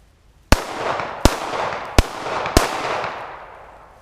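Four sharp pistol gunshots, 9mm and .45 ACP handguns, crack out at a steady pace about a second apart, each loud report followed by a rolling echo that fades out.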